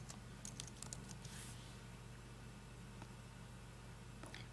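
Computer keyboard typing, a quiet run of irregular key taps over a steady low background hum, with a few brief pauses between bursts.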